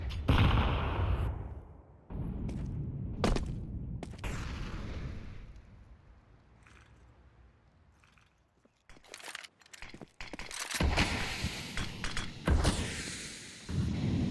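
Pistol gunshots during a Counter-Strike match on the Mirage map: scattered sharp single shots and thuds, a quieter stretch in the middle, then a denser flurry of loud shots near the end.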